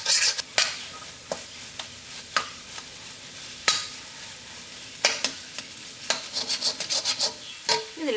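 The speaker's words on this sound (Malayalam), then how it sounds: "നല്ല സ്പീഡിൽ നമ്മൾ മിക്സ് ചെയ്യണം എന്നാൽ മാത്രമേ നമുക്ക് മുട്ട ഇങ്ങനെ നന്നായിട്ട് തെരുതെരുപ്പായിട്ട് കിട്ടൂ" Beaten egg scrambled quickly in a hot pan for street-style chicken kothu chapathi: a steady sizzle broken by sharp, irregular scrapes and clanks of the utensil as it is stirred fast. The sound is close, with no talking.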